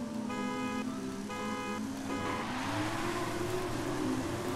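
A car in Forza Horizon 5 launches hard from the start, its engine revving up through stepped gear changes and then climbing in a sustained rising whine, loud and close.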